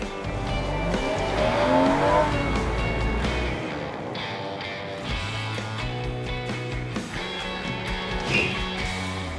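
A custom-built low sports car driving hard, its engine revving up and dropping through gear shifts, with tires squealing along the way; the engine note is loud and steady throughout.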